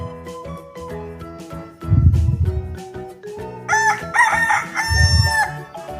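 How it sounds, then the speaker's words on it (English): A rooster crows twice over a continuous background music bed, each crow loud and drawn out, with no one speaking. "Rooster."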